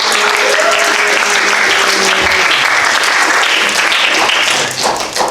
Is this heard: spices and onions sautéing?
no